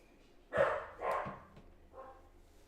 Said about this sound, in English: Dog's barking at us.